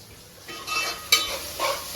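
Crabs sizzling in oil on low gas under a lid for an Aagri-style chimbori fry, a soft steady crackle that swells in short bursts with one sharp pop, close and alone.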